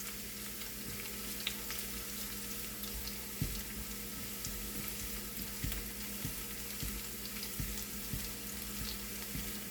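A small chopped onion fries in hot oil while a vegetable paratha is being made, a faint, steady sizzle broken by soft, repeated clicks of stirring throughout.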